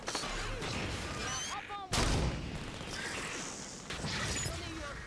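Gunfire from a sniper rifle in the Halo 5 Guardians video game, heard as loud sharp reports with one strong blast in the middle, set against a busy, noisy game soundscape.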